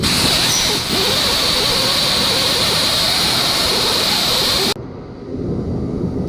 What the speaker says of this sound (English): now you just take the reamer tool and run it down through here